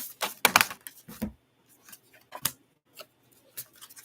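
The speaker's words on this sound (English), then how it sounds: "I am going to get the shuffle going on" Crisp papery riffling and snapping bursts come in uneven clusters, a deck of tarot cards being shuffled close by, with no talking.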